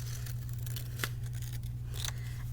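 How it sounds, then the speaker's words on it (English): Scissors snip along a curved line in paper for a craft project, a few quiet close cuts over a low steady background hum with no talking. "So you can cut out on that curved line."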